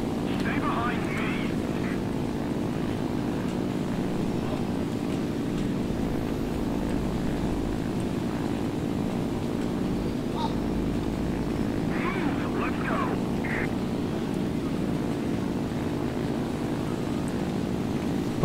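Jet aircraft in a video game: a steady, loud engine drone holds throughout, with a few brief higher bursts over it and voices talking over the top.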